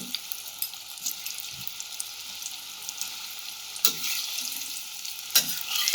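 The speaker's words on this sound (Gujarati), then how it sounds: "આપણે શક્કરિયાની ફ્રાઈઝને આમાં એડ કરી અને થોડી વાર માટે હલાવી અને કાઢી લઈશું" Sweet potato fries frying in hot oil with a steady bright sizzle throughout, broken by a couple of louder scraping stirs partway through, close up with no talking.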